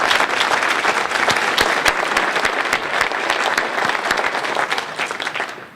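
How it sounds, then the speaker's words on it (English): An audience at a county State of the Economy address breaks into loud, sustained clapping: a dense, even patter of many hands that lasts the whole stretch without any talk. "Could we give them a round of applause?"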